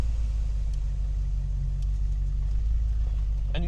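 A 1995 Range Rover Classic crawls over gravel in low range first gear, its engine giving a steady, loud low rumble throughout, with a brief clatter near the end.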